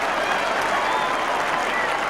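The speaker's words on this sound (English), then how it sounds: "He lifts that crowd once more, the Clare crowd." Clare supporters in a packed hurling stadium cheering and applauding after a goal in the 2002 All-Ireland Hurling Championship, a dense continuous roar of crowd noise.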